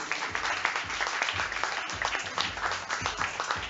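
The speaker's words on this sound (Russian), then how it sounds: "Под аплодисменты" Wedding guests at a magic show clap together, a brisk, even round of applause close by that continues throughout.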